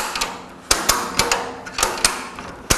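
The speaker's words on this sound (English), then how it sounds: "then we get the ratchet, we can release it there" A ratchet strap released on an electric power drive drum rotator gives off a series of sharp mechanical clicks and clacks, spaced irregularly and heard up close with no voices.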